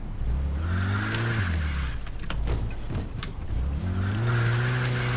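A tuned car driven in the video game Mafia II, its engine revving up and down in two strong acceleration sweeps, with gear changes and a dip in between, loud and close with no talk.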